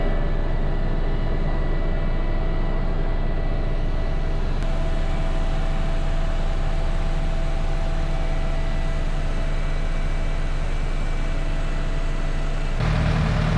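A forage chopper runs during a corn silage harvest while bunker silos are filled, giving a steady, loud mechanical drone that continues unbroken throughout, with a brief change in tone near the end.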